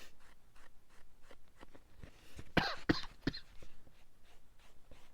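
A stifled cough bursts out near the middle, a short muffled cluster of throat sounds between quiet rustling and faint scratching at a desk while notebook crafting, with no speech.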